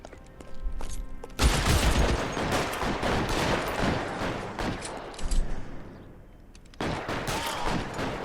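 Bursts of gunfire ring out in the crime game L.A. Noire, loud, dense volleys running almost continuously with a brief lull before another burst near the end.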